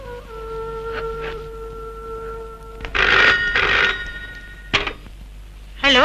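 An old-style telephone bell rings in several loud, clustered bursts separated by short pauses, starting after a soft tonal hum in a Telugu family drama scene.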